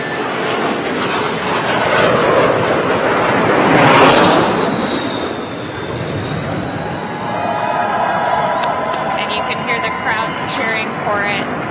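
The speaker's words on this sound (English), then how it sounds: "let's just watch that airplane land. Very first landing of the 777X." A Boeing 777X airliner on its first landing at Boeing Field in Seattle gives off a loud, broad engine roar that swells toward the middle and then settles, with a whine in the background and crowd voices underneath.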